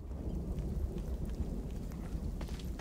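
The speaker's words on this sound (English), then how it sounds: "Rain, that's not too bad." Rain and thunder in the video game The Cycle: Frontier, with a steady patter of rain over a deep, continuous low rumble at moderate volume and no voices.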